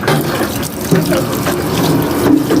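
Tap water runs steadily into a sink as hands are washed in a Thai home kitchen, a close, loud gushing splash with small fluctuations and no clear talking over it.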